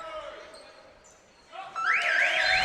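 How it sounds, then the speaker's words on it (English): A basketball game buzzer sounds loudly and holds steady through the end of the clip at an SCM Waverley vs McKinnon home game, following quieter court ambience and faint voices. "And on the buzzer, Harrison picks up another 2."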